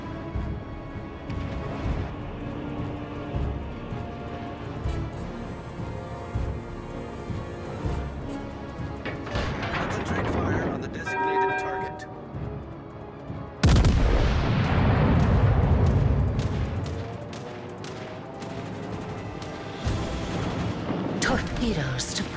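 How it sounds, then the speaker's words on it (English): Artillery fire support in World of Warships: Legends, a run of booming gun blasts and impacts layered under game music, with one loud heavy barrage midway and continuing rumbles after. "All stations requesting fire support."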